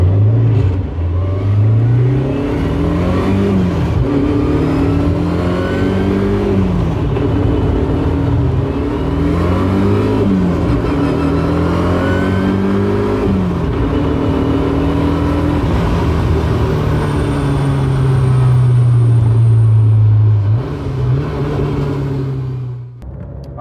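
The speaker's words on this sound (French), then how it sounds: "c'est une Ford RS 200, la street version" A Ford RS 200 street version accelerates hard in a long, loud run from inside the cabin, its engine note climbing through several gears with rising and falling revs, then holding a high steady pitch before it backs off.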